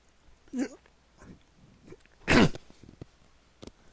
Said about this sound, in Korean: 기침 심해도